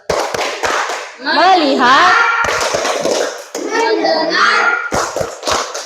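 Primary schoolchildren in an Indonesian classroom perform a rhythmic group clap, short sharp bursts of claps between loud chanted words from the class, close and energetic.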